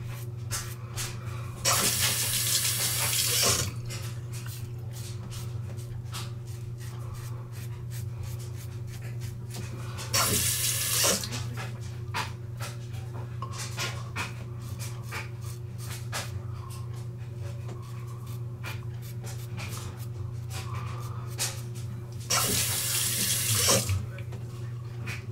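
Tap water runs into a sink in three loud bursts while a Vikings Blade safety razor is rinsed, with quieter scraping and handling sounds between the bursts and a steady low hum underneath.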